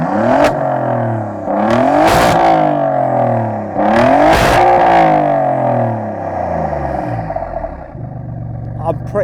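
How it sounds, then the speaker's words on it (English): Alfa Romeo Giulia GTAm with a centre-mounted titanium Akrapovic exhaust: two loud, close revs climb and fall back, then the engine settles into a rough, throbbing idle. "Alfa has fitted this car with a glorious centre-mounted Akrapovic exhaust system, and it's made out of titanium."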